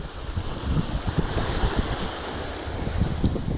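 Wind gusts buffet the microphone on a sandy beach at M'diq while fishing for cuttlefish with artificial lures, a constant rough rumble with distant surf beneath.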